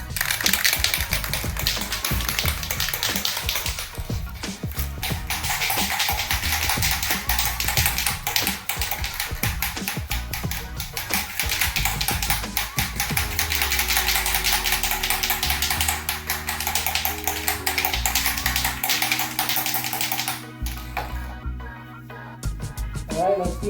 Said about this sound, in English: Now round 2, let me shake the bottle.